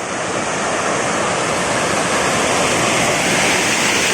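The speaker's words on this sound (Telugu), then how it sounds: "ఆరడి ఫుల్ ఫ్లో ఉంది మామ ఇదే మామ గుండాల జలపాతం" Gundala waterfall in full flow roars as a loud, steady rush of falling water that fills the whole clip, close and constant with no break and no voices.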